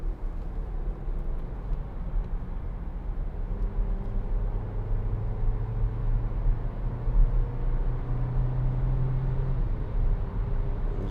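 A Skoda Octavia 1.4 TSI DSG engine pulls under acceleration on a road, a low droning hum that rises steadily in pitch through the gears, heard from inside the car, moderately quiet.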